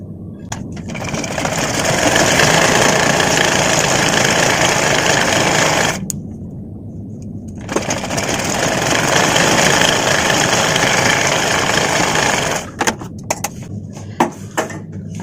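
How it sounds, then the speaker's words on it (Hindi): Sewing machine stitching a petticoat, joining a narrow fabric strip to a wider band; steady loud mechanical whirring runs continuously, pausing briefly in the middle, then resuming with a few short stops near the end. "देखिए पेटीकोट का सिलाई कर रहे हैं।"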